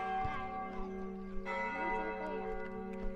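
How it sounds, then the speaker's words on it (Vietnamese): The bells of Vinh Son parish church ring out in the evening with sustained, overlapping tolls that hang in the air. A few soft strikes are added, and no voice is heard over them. "mọi người nghe tiếng chuông nhà thờ giáo Vinh Sơn này"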